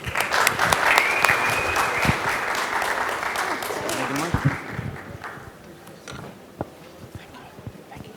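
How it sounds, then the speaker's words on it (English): An audience at a fireside chat event applauds two guests, loud dense clapping that holds for about five seconds, then thins into scattered claps and fades. "Dr. Ali, Juwan, please give them a round of applause."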